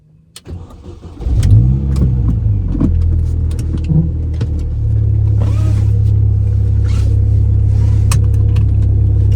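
A 2005 R53 Mini Cooper starts up and then settles into a steady, loud engine drone as it drives along an estate road, with no talking.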